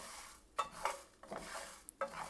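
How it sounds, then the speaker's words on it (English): Spices and fenugreek seeds stirred and roasting in a pan with a little sesame oil, giving scattered close scraping and clinking strokes of the spoon over a faint sizzle. "So I'm roasting all the ingredients in a 2 teaspoon of sesame oil"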